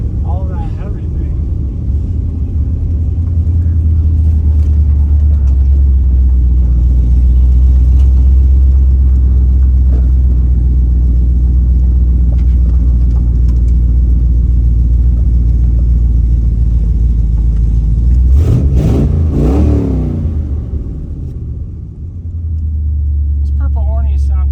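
A 1969 Dodge Dart V8 with purple ornie headers rumbles steadily at close range, with a deep low throb throughout and a brief rev-like surge near the end before settling back to a rough idle.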